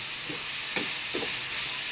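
Onions sizzling steadily as they fry in a pan for egg gravy, a constant close hiss with a few soft stirring scrapes and one brief sharper crackle, no talking.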